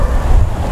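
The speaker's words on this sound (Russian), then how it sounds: "Оттуда очень сильный ветер." A strong outdoor wind gusts across a garden where conifer cuttings sit under protective netting, and it buffets the microphone with a loud, low, rumbling roar.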